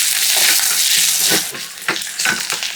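Chili powder sizzling loudly in hot oil for a mango curry, a steady close frying hiss with faint stirring scrapes toward the end.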